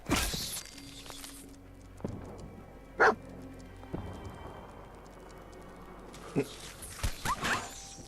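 A dog, Dogmeat, barks in the video game Fallout 4: a few short, sharp barks spaced several seconds apart over a quiet game ambience, with occasional clattering footsteps and no talk.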